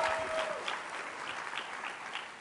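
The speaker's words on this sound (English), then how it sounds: "Let's give another round of applause for Secretary Sebelius," Indoor audience at a speech event clapping steadily, a dense, fairly close wash of applause that tapers slightly toward the end, with no talking over it.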